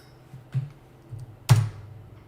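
Computer keyboard typing in a few sparse key clicks, close and distinct, with one sharper keystroke standing out; no talking.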